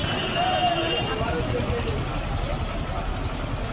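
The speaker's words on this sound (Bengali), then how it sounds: "এটা কল্যাণী হাইওয়ে, কল্যাণী।" Heavy trucks pass on the Kalyani highway, a steady loud low rumble of traffic throughout with a faint hiss of air brakes early on.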